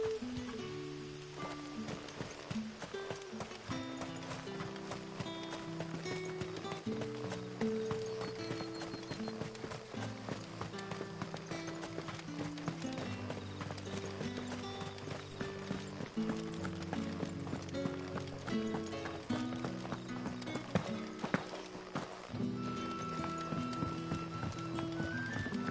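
Horse hooves clip-clop at a steady trot in Final Fantasy XVI, running continuously under a layered musical score with a faint voice now and then.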